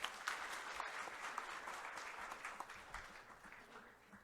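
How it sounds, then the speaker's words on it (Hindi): Sustained audience applause fills a stock exchange listing ceremony for Macpower CNC Machines Ltd on NSE Emerge: dense, steady clapping from a sizeable crowd, close and loud throughout, with no talk over it. "एक बार जोरदार तालियां और होनी चाहिए"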